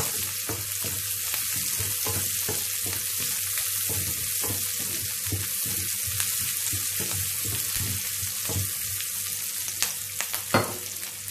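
Ingredients sautéing in a pan for a Tamil white curry with salt added give a steady close sizzle, broken by repeated scraping stir strokes and a louder clatter near the end, with no voices.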